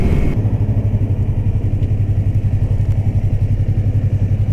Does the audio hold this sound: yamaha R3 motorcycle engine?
yes